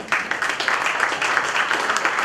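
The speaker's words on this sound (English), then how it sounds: "Let's give big round of applause" Hall audience claps during the inaugural ceremony of an ICAI Ballari MSME conclave, a continuous rippling applause with distinct hand claps standing out, moderately loud and sustained throughout without voices.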